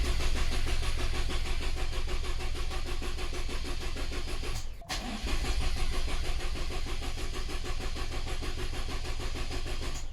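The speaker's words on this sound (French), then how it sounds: "Ça fait 5 coups de démarreur." A Toyota GR Yaris engine cranks on the starter, a steady mechanical churn running close and loud through the whole stretch, broken by one brief dip in the middle, with no voices.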